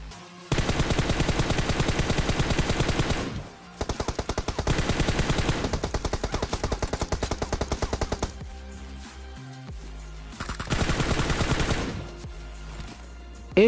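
M4 rifle gunfire in a mobile battle royale video game, long rapid automatic bursts of loud close shots separated by brief pauses, with a shorter burst near the end.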